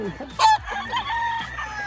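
Roosters crow and chickens call at a gamefarm in Nasugbu, Batangas, in a short, close burst of bright crowing and clucking over a low farmyard background.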